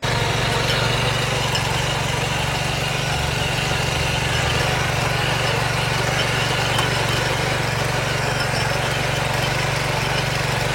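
A small petrol power weeder engine for farm tilling runs at a constant loud drone with a steady low throb, close and uninterrupted, with no voices.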